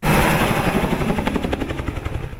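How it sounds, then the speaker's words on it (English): A helicopter rounding up wild horses on the Little Book Cliffs roars loud and close with rapid rotor chop, the beating pulses growing more distinct as it continues. "We're here on the Little Boat Cliffs today as part of the helicopter gather for wild horses."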